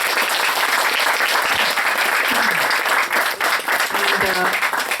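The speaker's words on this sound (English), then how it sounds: "So big round of applause to Nancy." Sustained audience applause fills a piano recital hall, dense and steady clapping throughout, with a few voices calling out over it.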